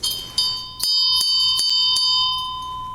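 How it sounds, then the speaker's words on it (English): A cast metal bell, a higher-quality casting, is struck several times in quick succession, each bright ring sustaining with a steady pure tone and shimmering overtones between strikes. "Even on the inside, it's a much higher quality bell"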